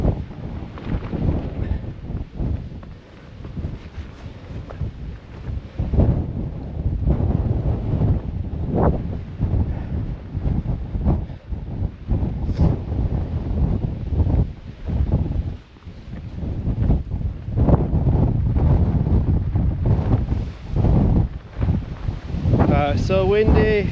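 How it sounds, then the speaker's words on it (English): Strong, gusty wind roars across the exposed hillside of Arthur's Seat in Edinburgh, buffeting the microphone in loud continuous rushes with brief lulls throughout. "So windy."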